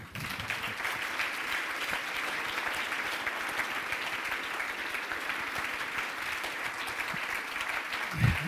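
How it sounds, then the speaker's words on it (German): An audience at a talk gives sustained, even applause, a dense wash of clapping that holds steady throughout and swells briefly at the end. "das ist dein Applaus"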